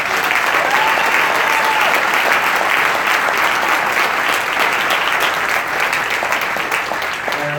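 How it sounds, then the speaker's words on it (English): A large conference audience at a global summit gives a sustained, loud round of applause, a dense, even roar of clapping from many hands that holds steady throughout. "So if we can all give a big round of applause to Frederick."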